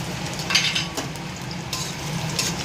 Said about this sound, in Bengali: এবার কড়াইতে পেঁয়াজটা দিয়ে দিচ্ছে।